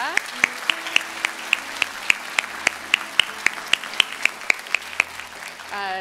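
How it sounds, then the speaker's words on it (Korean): A church congregation claps in a steady, even rhythm of sharp, evenly spaced claps, with a soft tonal background running underneath throughout. "우리 그 하나님에게 영광의 박수 올려드리십시다"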